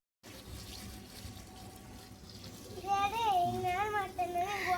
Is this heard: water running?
yes